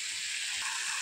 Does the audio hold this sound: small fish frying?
yes